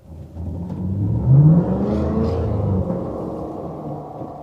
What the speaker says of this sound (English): The performance from this engine is absolutely effortless.